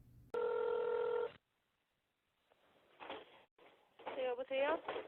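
A single electronic telephone tone sounds for about a second as a call is placed to a Subway restaurant, followed by a pause, then a voice answers as if over a phone line.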